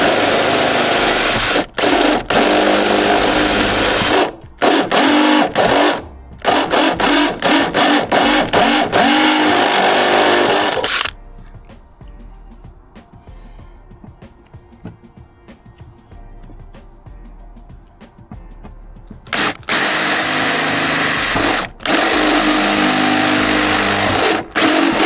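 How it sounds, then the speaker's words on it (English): A step drill grinds through the metal door of a Ford Transit Mk8 van, loud bursts of whining drilling broken by short pauses, then a quieter stretch before the drill starts up again. "So I haven't gone all the way through with the pilot hole this time, just enough to get the tip of the step drill."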